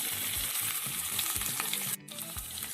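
Chopped onion is added to ginger and garlic frying in oil for a beef stew, giving a steady close sizzle with stirring scrapes and a brief break near the end.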